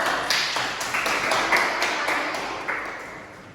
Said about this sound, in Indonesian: beri aplaus kepada kelompok biru